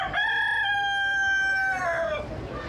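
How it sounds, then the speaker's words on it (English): A rooster crows once in a village courtyard in Pakistan, a long, clear, drawn-out call close by that trails off at the end over quiet background noise. "Chicken."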